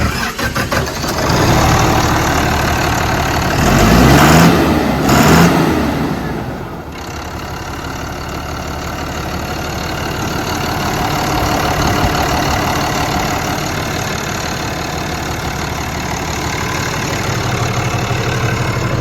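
A Chinese 6-cylinder turbo tractor engine of 140 horsepower cranks and fires with a loud burst, then settles into a steady, deep idle close by.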